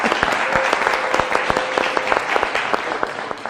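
An audience at an Italian TV quiz semifinal between Povoletto and Monfalcone gives a short round of close, crisp applause, with distinct claps popping over the steady clatter for a few seconds.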